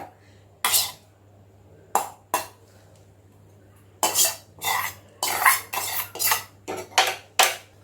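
Two hundred grams of crumbled paneer is mixed into pakora batter in a bowl, making bursts of close, wet scraping and clinking strokes that grow more frequent toward the end, with no talking.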